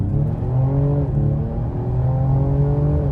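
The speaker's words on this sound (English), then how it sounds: "Let's get under some throttle." A 2025 Ford Explorer ST with a 3-liter twin-turbo V6 accelerates under throttle. The engine note rises steadily, eases at a shift, then climbs again. It is heard from inside the cabin as a continuous, fairly loud hum with no talking.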